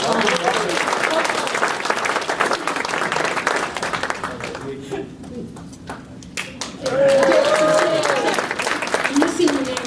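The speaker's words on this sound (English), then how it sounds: "let's give him a round of applause" Graduation ceremony audience applauding, dense clapping that fades into a brief lull with a few scattered claps, then swells loud again, with a voice speaking over parts of it.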